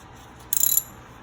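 A ratchet wrench loosening a brake caliper bolt on a 2012 Ford Escape, giving one quick burst of about ten close, rapid clicks in a quiet garage.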